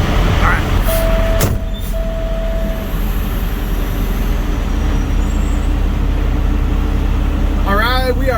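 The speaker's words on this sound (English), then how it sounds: "I like watching this trailer shake around." A semi truck pulls away with its trailer rattling and shaking, a loud continuous low rumble with scattered clanks, and a voice briefly heard near the end.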